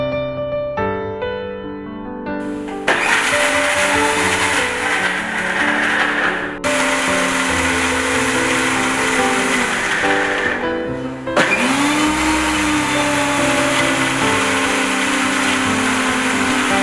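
Mixer grinder whirring steadily as it grinds mango chutney with coconut, green chilli, curry leaves and onion, a loud continuous motor drone with brief pauses and restarts, no talking.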